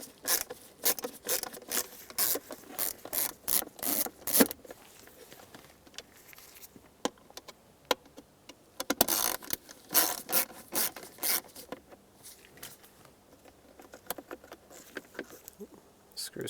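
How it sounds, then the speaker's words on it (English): Phillips head screws come out of a 1996-2002 Toyota 4Runner center console latch under a screwdriver, heard as soft close clicks and ratcheting rasps in uneven bursts with quiet handling rustle between them. "So grab your screwdriver, take them out."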